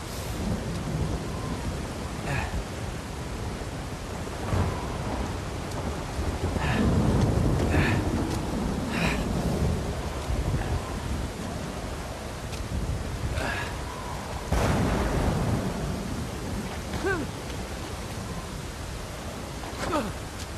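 Rain and thunder in the Uncharted 4: A Thief's End video game, a steady downpour hiss with several deep thunder rumbles rolling in, loudest around the middle and again later, with faint talk underneath.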